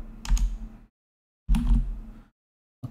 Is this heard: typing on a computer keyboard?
yes